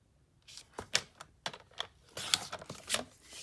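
Cardstock for card making is cut with a series of irregular crisp clicks and slicing scrapes, close and moderately loud, with no talking.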